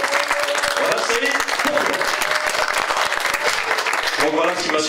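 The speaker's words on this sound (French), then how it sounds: "Alors des applaudissements pour lui" An audience at a documentary screening in Lambres-lez-Douai claps in a dense, sustained round of applause, loud and close, with a voice speaking over the clapping throughout.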